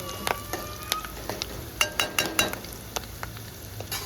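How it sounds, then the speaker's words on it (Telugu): Curry leaves fry in a pan, a steady crackling sizzle broken by sharp pops and spatters with a few louder bursts midway, no voices over it. "బాగా గోల్డెన్ కలర్ వచ్చేంత వరకు ఫ్రై చేసుకుందాం"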